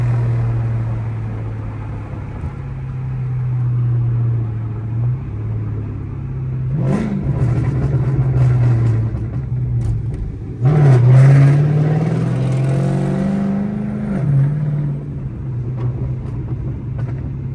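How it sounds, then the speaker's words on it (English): A catless straight-pipe Chrysler 300C's loud exhaust drones under steady cruising, then revs up hard twice, the engine roaring and crackling as it climbs. "Listen to that exhaust, boy."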